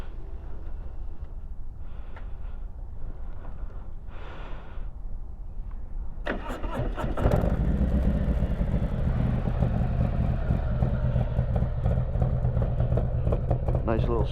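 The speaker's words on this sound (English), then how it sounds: "You get that nice lumpy lobe sound of the bike." A Harley Road Glide Special with an S&S 475 cam starts up and settles into a loud, close, lumpy idle after a few seconds of quiet background noise.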